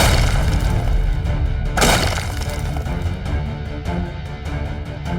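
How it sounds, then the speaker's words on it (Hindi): A loud burst of a cartoon explosion rises out of dense, noisy background sound, then the clamor continues at full volume. "वहाँ से आई है आवाज, यदि वही हुआ है धमाका"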